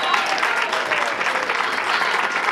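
Applause from an audience at a women's commission gathering, dense and steady clapping filling the whole stretch at close range with no voices over it.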